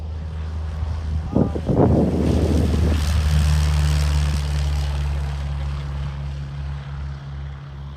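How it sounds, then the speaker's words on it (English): An agricultural propeller plane drones low and steady, with a brief burst of rushing noise early on as it touches down in a spot landing at an airfield, then the engine hum continues evenly. "spot landing with an ag plane."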